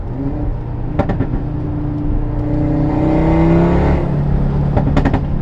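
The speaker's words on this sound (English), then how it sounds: "listen to when I downshift" Tuned Audi RS3 with a stage 2 engine, revving and crackling on downshifts: a loud, steady engine drone with rising and falling pitch and sharp pops near the start and end.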